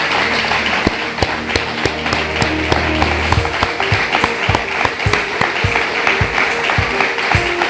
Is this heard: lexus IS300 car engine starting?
no